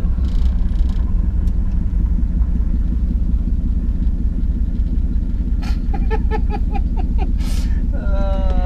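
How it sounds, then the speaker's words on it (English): A 1978 Ford Bronco engine, running poorly and smoking, pulls under load in second gear with a steady loud rumble throughout, joined near the end by squealing, whining tones. "Let's put a load under it. Start in the second gear here."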